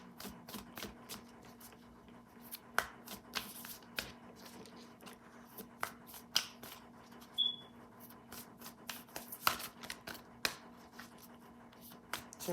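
Moonology oracle cards are shuffled by hand, giving a long run of crisp, irregular riffling slaps and flicks close by, with no talking.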